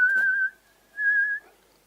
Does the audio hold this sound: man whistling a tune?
yes